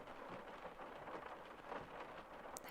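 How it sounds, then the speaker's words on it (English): Heavy rain falls outside in cold weather, a steady soft hiss of drops that runs unbroken and fairly quiet, with no voices over it. "It's raining quite heavily outside, and the weather's only getting colder."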